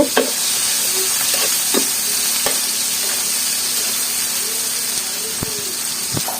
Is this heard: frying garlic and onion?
yes